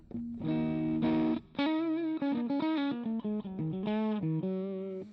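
An overdriven electric guitar plays a warm, thick bluesy lick with sustained bent notes and short phrases, loud and close, no voices.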